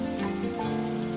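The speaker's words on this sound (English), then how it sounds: "the rain outside, still falling," Steady rain falls outside, a soft continuous patter on surfaces that holds evenly throughout, with gentle sustained musical tones running beneath it.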